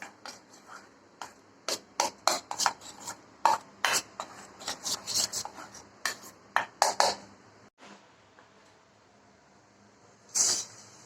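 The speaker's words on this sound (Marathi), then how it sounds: "ह्या तेलाला बॅटर मध्ये चांगलं मिक्स करून घेऊ" Spoon stirring hot oil into vada batter for Mumbai vada pav, a series of close scraping, rasping strokes in an irregular rhythm, then a pause and one last scrape.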